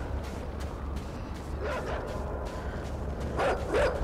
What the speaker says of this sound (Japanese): 犬がいる。